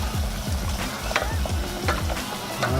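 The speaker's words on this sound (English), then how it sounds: "Make sure you gotta mix it while you're adding the flour." Flour is stirred into meat frying in a pan for a Tex-Mex loco moco. Quick rhythmic scraping strokes sound over a steady, close sizzle.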